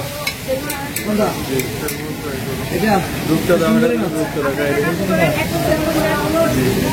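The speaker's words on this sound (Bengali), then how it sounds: "মশলা দিয়ে মাখাই রাখছে, ফ্রাই করতেছে" Spice-coated fish frying at an open-air seafood eatery on Saint Martin island, a steady sizzle and crackle under continuous nearby voices and market chatter.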